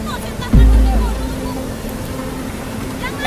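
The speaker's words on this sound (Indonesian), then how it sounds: "Iki lur banjir lur." Lahar floodwater rushes past in a steady, broad roar close by, with a brief louder surge near the start and voices talking over it throughout.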